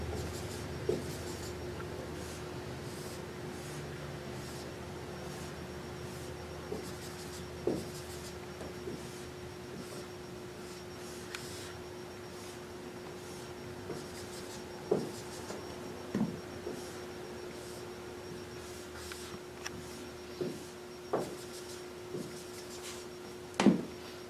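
Pen or pencil drawing an area model by hand on paper for a fraction multiplication lesson, with soft continuous scratching and scattered light taps from strokes, close and quiet over a steady background hum.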